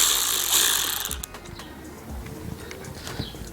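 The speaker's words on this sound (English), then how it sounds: "we have our top bolt right over here, so we're going to go ahead and loosen it" Ratchet loosening the top bolt of a roof rack on a Subaru Forester XT, heard as a run of quick metallic clicks close by, with a broadband rustle at the start giving way to a quieter ticking stretch.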